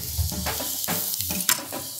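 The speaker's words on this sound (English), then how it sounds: "Into the pan. You hear that sizzle." Chopped onion sizzles in hot oil in a frying pan, a steady close hiss with brief louder crackles and faint clatter from stirring.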